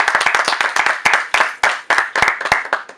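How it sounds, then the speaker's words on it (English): A small audience claps in quick uneven bursts, sharp close hand slaps repeating over three seconds with no talk. "Let's go ahead and clap it up, people."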